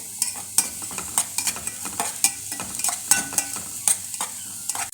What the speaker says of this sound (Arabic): هنقعد نقلب كده لغايه بس البصله لما تدبل شويه